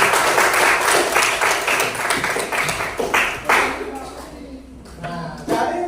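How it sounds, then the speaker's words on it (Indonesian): Classroom audience clapping for the final group of presenters, brisk and fairly close, fading after a few seconds as a speaker's voice comes in over the tail. "Ya, silakan kasih tepuk tangan."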